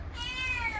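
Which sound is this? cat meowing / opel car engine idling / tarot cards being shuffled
cat meowing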